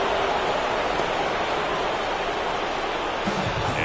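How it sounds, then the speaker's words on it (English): Heavy rain in a baseball video game makes a steady, dense hiss throughout, loud and unbroken, with no voices. "It feels like we might be headed towards a rain delay if the weather doesn't ease up, Chris."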